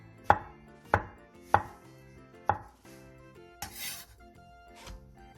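A knife slices two shiitake mushrooms into thin strips about 0.3 cm thick on a cutting board. Six sharp, separate strikes land roughly half a second apart, with faint music underneath.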